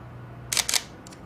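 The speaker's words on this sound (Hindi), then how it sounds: "ये 2 तस्वीरें खींच गई, लेकिन आपको समझ में आ गया होगा कि शटर की साउंड क्या होता है" A camera shutter fires twice in quick succession, two sharp crisp clicks close to the microphone, followed by a fainter mechanical tick in an otherwise quiet room.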